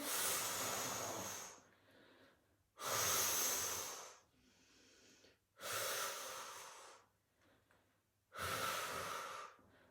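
Four forceful, breathy exhales come through the mouth during an oblique and transverse abdominal exercise for a flat belly, each a loud, close rush of air, separated by quieter inhales in a slow, regular rhythm.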